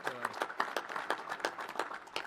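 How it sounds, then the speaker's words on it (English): Audience applause at a National Space Council meeting: a modest round of clapping in a formal hall, moderately distant and fairly quiet, with a voice briefly heard at the start. "you can give him a big round of applause as well"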